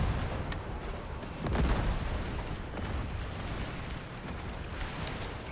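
An infantry front line opens fire in the strategy game Empire 2 as a dense rumbling roll of distant musket volleys with scattered sharper cracks, loud and continuous throughout.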